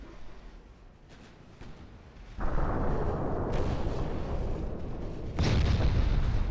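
Battleship artillery fire in Ultimate Admiral Dreadnoughts: two heavy broadside booms, the second louder, each followed by a sustained roaring rumble.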